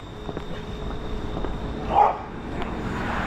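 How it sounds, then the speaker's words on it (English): A single dog bark rings out at a distance in the dark during a dusk walk in Maine, brief and moderately faint over steady outdoor background noise and footsteps. "I hear a dog"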